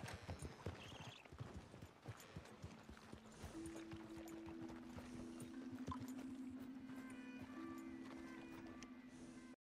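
Rhythmic clip-clop of a horse's hooves at a walking pace in Red Dead Redemption 2, accompanied by a sustained electronic tone layered underneath.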